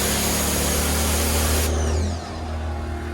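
Budget mobile detailing pressure washer spraying at full pressure while its pump draws water from a tank, a loud continuous hiss and motor drone that drops off near the end.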